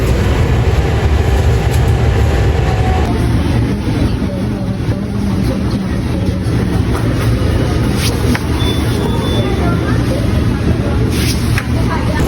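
Steady rumble of a passenger train riding from Purwosari station toward Jakarta, with a continuous low drone and rail noise throughout and a faint high whine above it. People talk quietly in the background.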